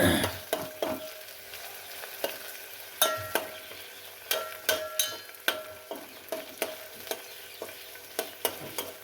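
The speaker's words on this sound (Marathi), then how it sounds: "टमाट्याला असं हे करून घ्यायचं आहे" Tomatoes fry in a pan over a low flame with a soft sizzle under repeated sharp spoon clicks and taps as they are stirred at an uneven pace.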